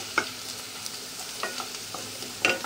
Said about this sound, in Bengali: এবার দিয়ে দেবো পোস্ত